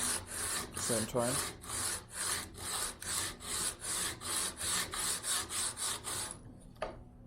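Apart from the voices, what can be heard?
sanding acoustic guitar bottom flat against plywood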